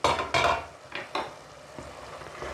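Vegetables cooking in oil with yogurt and turmeric in a pan, stirred: a few close scraping strokes of a spoon against the pan over a soft sizzle, with the strokes fading to a quieter simmer toward the end.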